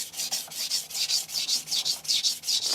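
A knife edge is drawn across an FSK vitrified diamond stone of 400 grit in quick, even back-and-forth strokes, each giving a close, gritty rasping scrape in a steady rhythm.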